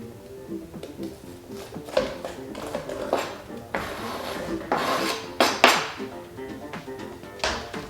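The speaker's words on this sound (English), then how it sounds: "We'll go ahead and get that in the pot." A half onion going into a pot in a home kitchen, heard as rasping, scraping rubs against the pot with a few sharper knocks, close and fairly loud with no talking.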